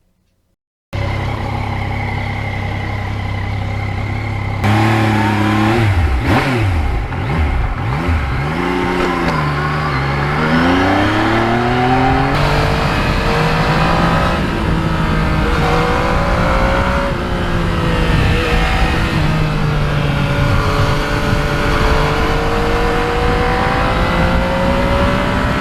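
A 2020 Yamaha MT-09 motorcycle fitted with carbon fibre parts, its engine starting up and running loud and close, with rising and falling revs over a sustained rumbling idle.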